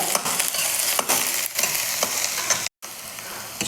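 Onion masala sizzles and fries in an iron kadai for Punjabi-style chole, with steady broadband crackle broken by stirring scrapes and a brief dropout near the end; no talking.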